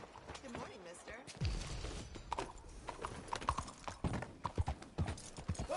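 Horse hooves clip-clop in the Red Dead Redemption 2 video game, a quiet uneven walking rhythm with a brief whinny, under scattered voices of characters talking nearby.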